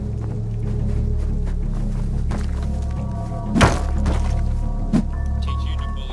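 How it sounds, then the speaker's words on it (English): A rock strikes something in the survival video game Rust, giving two dull thunks about a second apart over a steady droning game background. "Hits you with rocks."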